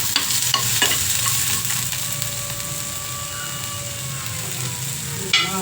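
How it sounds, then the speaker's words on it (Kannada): Grated coconut frying in a pan for a Karnataka bean and field-bean stir-fry: a steady close sizzle with repeated scraping stirs and wooden-sounding knocks. There is no speech. "ಈ ಟೈಮಲ್ಲಿ ಸ್ವಲ್ಪ ಕಾಯಿನೂ ಅದರಲ್ಲಿ ನಾವು ಹಂಗೆ ಫ್ರೈ ಮಾಡ್ಕೊಳ್ಳೋಣ ಚೆನ್ನಾಗಿರುತ್ತೆ"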